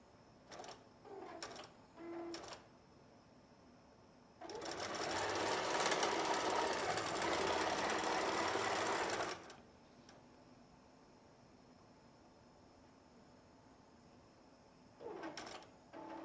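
A computerized sewing machine stitches steadily for about five seconds, a loud buzzing whir, with scattered clicks and taps before and after it.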